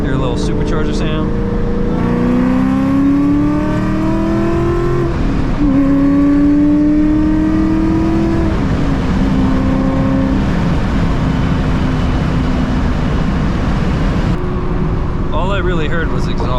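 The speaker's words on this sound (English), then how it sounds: "All I really heard was exhaust. I didn't really hear the supercharger that time." Terminator Cobra with a supercharged engine making an acceleration pull, loud exhaust roar rising through the gears in several climbing sweeps, close up from inside the car.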